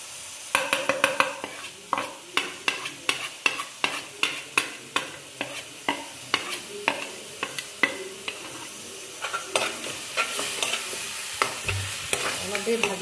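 Spiced jackfruit curry fries in a pan, with a spoon scraping and stirring in regular, rhythmic strokes over a soft sizzle, close and fairly quiet, with no one talking.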